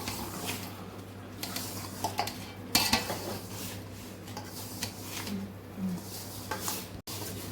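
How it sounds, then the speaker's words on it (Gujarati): A spoon scrapes and clinks in a bowl while leftover rice is mixed with oil and a pinch of soda for dhokla batter, giving soft irregular stirring taps and one sharper clink over a quiet kitchen background. "આ બધું આપણે મિક્સ કરી લઈશું પહેલાં"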